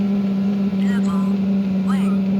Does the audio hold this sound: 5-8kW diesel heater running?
yes